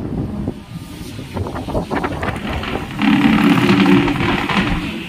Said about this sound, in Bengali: প্রচণ্ড ঝড় উঠেছে, হাওয়া যা দিচ্ছে কি বলবো